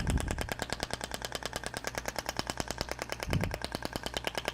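Ibramed Thork shockwave therapy unit firing rapid, evenly spaced pulses through its radial applicator, a steady mechanical clatter of sharp clicks at roughly ten per second, loud and close, with a low thump underneath.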